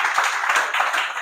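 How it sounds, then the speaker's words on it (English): A short burst of applause for a speaker at a youth symposium on personal branding, brisk clapping from a small audience. "A round of applause for him"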